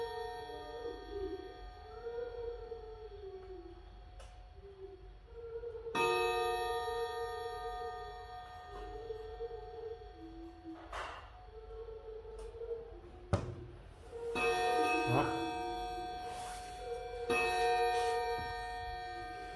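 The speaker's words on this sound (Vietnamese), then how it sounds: "Đấy, tiếng chuông rất chậm rãi." A clock bell slowly strikes the hour, each ding ringing out with long sustained tones in a quiet indoor setting, a few strikes spaced several seconds apart with lingering overlapping resonance.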